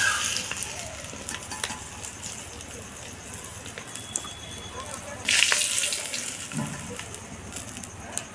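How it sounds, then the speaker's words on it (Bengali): Fish roe fritters coated in gram flour fry in oil with a busy sizzle and stirring clatter, including a louder burst of hissing midway and some running water in the background. "আর এইভাবে লাল করে আমি ডিমের বড়াগুলোকে ভেজে নেব।"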